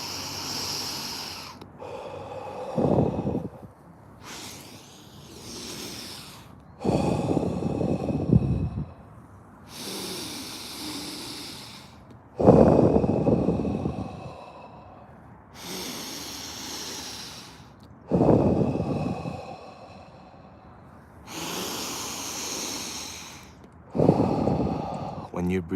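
Slow, deep breaths during a guided breathing exercise, each long inhale and exhale rising and falling in a steady rhythm roughly every four to five seconds, close and clearly audible with no talking over them.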